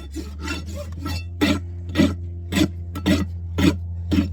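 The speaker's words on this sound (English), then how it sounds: "You'll notice I run my rasp across the tops of the nails." Farrier's rasp scraping across the clinched nail tops on a massive draft horse hoof, about nine rhythmic rasping strokes close up, each a short coarse burst over a steady low hum.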